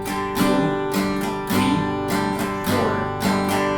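A guitar strummed alone with chords ringing continuously, steady beat strokes broken up by quicker down-up strokes squeezed in between beats, giving a fuller, bouncier rhythm.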